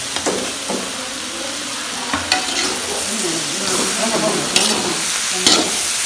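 Devilled chicken sizzling and frying in a pan while a spoon stirs it, steady close hiss with intermittent scraping and clinks, no talk.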